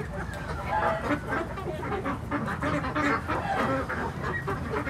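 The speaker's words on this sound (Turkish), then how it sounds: "Kazlar diğer tarafa geçtiler." A flock of geese honks and cackles continuously nearby, a busy overlapping chorus of calls.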